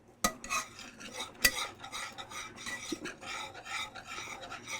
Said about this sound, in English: I'm going to whisk that,